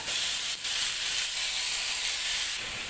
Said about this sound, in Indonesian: ayamnya ini mau aku goreng tapi tanpa menggunakan minyak